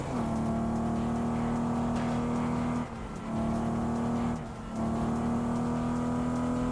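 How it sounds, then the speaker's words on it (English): A car engine in the racing game TDU Solar Crown drones at a steady pitch with a whirring tone, dipping briefly twice as if shifting or lifting off, otherwise constant and fairly quiet. "But how do we feel about the car sound?"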